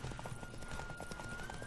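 Horse hooves gallop at a steady rhythm while riding in The Witcher 3: Wild Hunt, a continuous clip-clop of moderate loudness with faint game ambience throughout and no talking.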